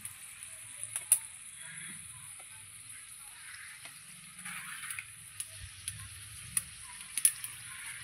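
Prawns frying in a pan for a home-cooked Bengali prawn dish: a steady, soft sizzle with scattered sharp pops and crackles, close by, with no talking.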